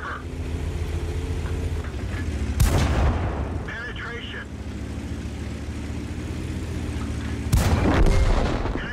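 Tank cannon shots in the PC game World of Tanks: two loud, sharp booms about five seconds apart with rumbling decay, over a steady engine drone, with a voice talking faintly between them.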